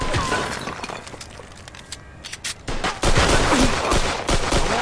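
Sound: machine gun fire in the video game Mafia 2

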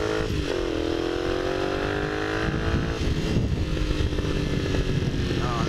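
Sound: Honda CX motorcycle engine running

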